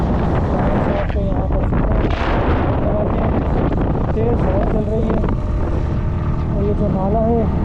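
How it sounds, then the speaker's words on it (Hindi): Strong wind buffets the microphone with a loud, constant roar near a frozen stream on a cold mountain road toward the Pakistan-China border, while a voice speaks intermittently beneath it. "तो यहाँ पर तेज़ हवा चल रही है"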